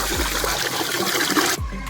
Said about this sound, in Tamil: தண்ணி இதில் சேர்த்துடுறோம் பாருங்கள்